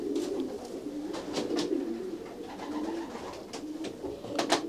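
A racing pigeon coos in low, rolling phrases, repeated steadily and close, with faint taps and rustles around it.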